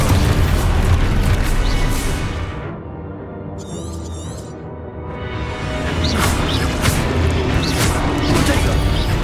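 Explosion spell going off in Hogwarts Legacy gameplay, a loud booming crash and roar that swells, briefly dips with a faint magical shimmer, then surges again amid game noise.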